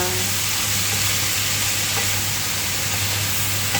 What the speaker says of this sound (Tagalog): Halo natin ang carrot kasi baka masira na.